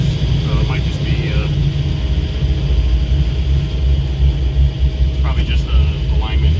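A car driving at steady speed with a constant low engine and road rumble and some looseness in the front end, while someone talks over the drone.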